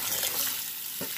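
Warm water poured over koki beans to rinse them, a steady close splashing and trickling wash that runs through the whole moment, with a slightly heavier splash near the end.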